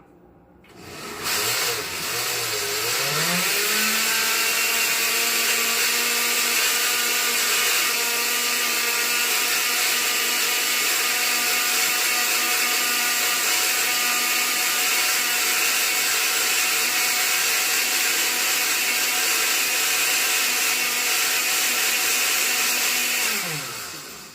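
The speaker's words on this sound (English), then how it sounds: "Set the blender on." A kitchen blender spins up and then runs on high speed as a loud, steady whine for about twenty seconds before winding down at the end, with no talking over it.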